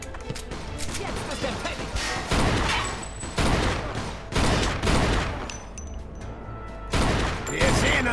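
Gunfire in the Mafia 2 video game comes as repeated loud bursts of shots, several volleys clustered close together across the stretch, with a voice speaking in between.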